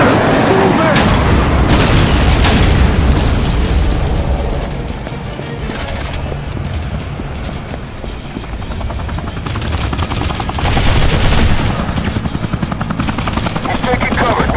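Modern Combat 3 battle with a helicopter deployment: a loud, dense barrage of booming explosions and rapid gunfire over a constant rotor roar, with voices calling out amid the din.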